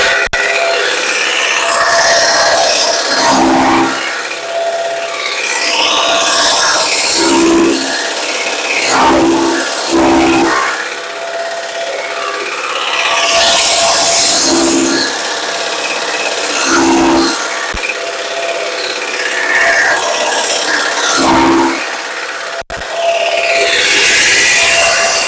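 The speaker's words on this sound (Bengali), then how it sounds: "এখন কাটবো আমি এলোমেলো খড়।" A steel-conveyor chaff cutter chops loose, tangled straw with a loud, continuous grinding roar, broken by repeated heavier chopping surges at irregular intervals. No one speaks.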